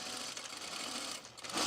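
A home sewing machine stitches a seam on a pullover camp dress without backstitching, a brief, close, continuous motor whir at an even pace.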